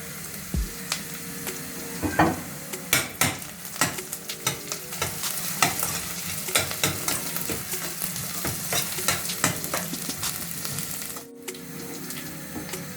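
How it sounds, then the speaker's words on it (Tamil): Onion, garlic and fennel seeds fry in hot oil for a yogurt curry, a steady loud sizzle broken by frequent quick stirring scrapes and clicks of a spoon against the pan throughout. "வெங்காயம் பெருஞ்சீரகம் உள்ளி எல்லாம் கொஞ்சம் தாளி வெட்டு கொண்டு வந்துட்டுது."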